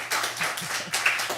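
Audience members at a poetry night clap for poet James Henry Knippen after his poetry prize win, giving a brief burst of close, fairly sparse hand claps.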